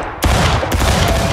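Loud musket volley in the multiplayer battle game War of Rights, several shots cracking almost together in a ragged burst, then a few scattered reports close by.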